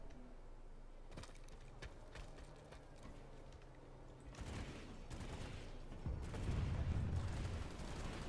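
Gunfire in the video game Planetside 2 comes as faint, distant rattling volleys that build in the second half over a low background rumble.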